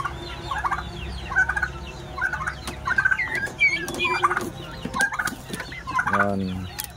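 Turkeys gobble in repeated bursts amid a noisy flock, with clucking fowl and other bird calls mixed throughout at close range.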